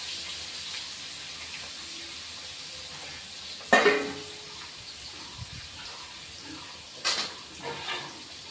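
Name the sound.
tangra fish frying in a pan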